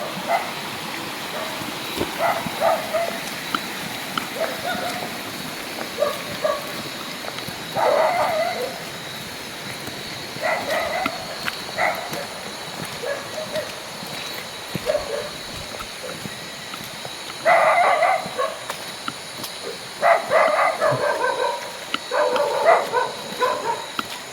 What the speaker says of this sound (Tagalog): Delikado yung may aso kasi may aso tayo dyan, Tridox.